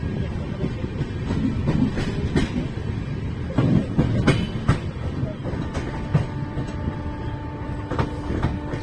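An express train runs through Shahjahanpur station without stopping, a steady loud rolling rumble with clicking wheel-on-rail beats and sharp knocks over joints, heard from on board throughout.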